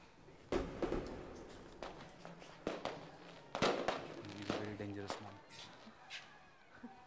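Firecrackers go off in several sharp, loud bangs at irregular intervals, with voices and shouting between them.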